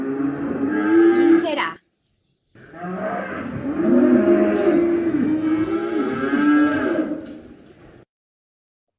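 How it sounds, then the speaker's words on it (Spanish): A cow gives two long, loud, close moos with a short silent gap between them, the second drawn out and wavering, played as part of an animal-sound guessing game. "La vaca."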